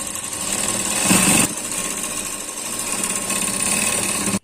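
A sewing machine runs continuously while stitching a double katori blouse, a fast mechanical rattle held loud and close, with a brief shift in tone midway before it stops abruptly at the end.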